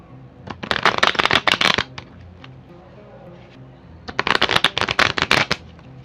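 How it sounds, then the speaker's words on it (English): Two bursts of cards being riffle-shuffled, a rapid fluttering rattle, close by, separated by a quieter gap. "We're gonna start by shuffling your cards."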